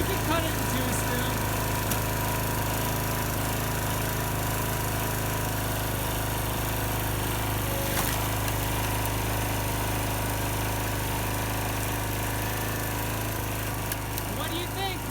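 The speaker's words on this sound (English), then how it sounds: "First time she's used the splitter." An engine-powered log splitter runs steadily throughout, a constant loud mechanical drone with brief knocks of wood being split, while people talk nearby.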